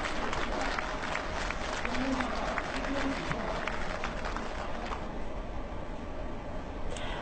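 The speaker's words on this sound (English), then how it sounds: "We hear loud applause when they announce the success of the docking." Loud applause fills a spacecraft control hall after a docking success announcement, dense crowd clapping throughout with some voices, easing slightly near the end.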